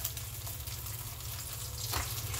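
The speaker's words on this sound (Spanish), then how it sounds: "vamos a pasar las tortillas por aceite" Corn tortillas dipped in hot cooking oil for enchiladas give a steady, soft sizzle with a faint crackle, continuous and close with no talking.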